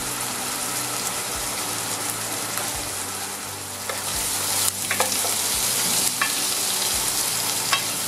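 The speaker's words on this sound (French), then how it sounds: "Quand vous entendez grésiller, ça veut dire qu'il n'y a plus d'eau." Sauce for chicken paupiettes with chanterelles sizzles steadily in a pan as its water cooks off, a loud continuous frying hiss with occasional sharper crackles and stirring scrapes, no voices.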